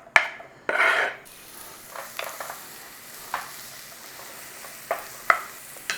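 Onion sautéing in butter in a small pan gives a steady soft sizzle, broken by several sharp scrapes and clinks of a utensil stirring against the pan.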